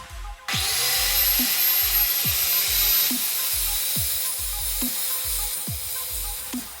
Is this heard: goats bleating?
no